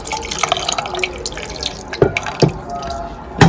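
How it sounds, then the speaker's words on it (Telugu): Water is added to a small fish curry (chinna chepala kura) being prepared, heard as close, irregular drips and splashes with a few sharper plops standing out. "ఇంకొంచెం వాటర్ వేసుకుందాము."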